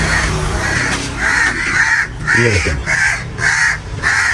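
Crows caw loudly and close by in a regular series of harsh calls, about once every half second, while someone talks over them briefly.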